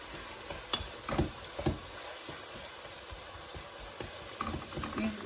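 Meat frying in a pan with a little paprika, stirred now and then: a soft steady sizzle with several scraping stirs, close and moderately quiet, no voices.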